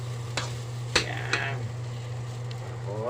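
A spoon or spatula stirs and scrapes special fried rice in a frying pan, giving a few sharp metallic scrapes over a soft sizzle and a steady low hum.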